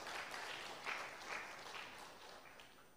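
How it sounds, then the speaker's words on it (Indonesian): Audience applause from the assembled crowd at an Indonesian public debate between mayoral and deputy mayoral candidates in Magelang, a dense, steady wash of clapping that stays fairly soft and distant throughout. "Tepuk tangannya boleh Bapak Ibu hadirin sekalian"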